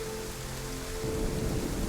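Steady rain falls in the DayZ Livonia game world, a dense even hiss of drops on surfaces that thickens slightly in the second half, with no voices.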